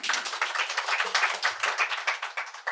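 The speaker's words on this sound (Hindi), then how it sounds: "एक बार तालियां बजा दीजिए, मैं शुरू करता हूं" An audience claps at a Hindi poetry recital before the poet begins: distinct, close hand claps in a quick, fairly regular rhythm, loud and continuous for almost three seconds with no talking.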